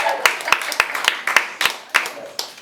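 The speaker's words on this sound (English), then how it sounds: "Can we just have an applause for this outfit," Scattered clapping from a small audience at a live theatre chat event, distinct individual claps in an uneven rhythm rather than a dense roar, close and fairly loud.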